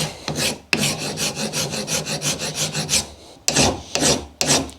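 A metal hand file rasps against an aluminium part clamped in rubber vice jaws, a close, loud run of rhythmic back-and-forth strokes, pausing briefly before a few more separate strokes.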